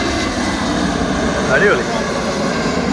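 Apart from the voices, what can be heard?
Lufthansa Airbus A320 jet landing at London Heathrow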